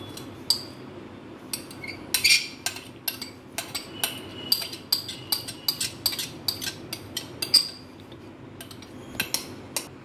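A metal spoon stirs whisked yogurt into corn in a bowl, giving a string of bright clinks and scrapes against the dish, uneven but steady, close and fairly quiet.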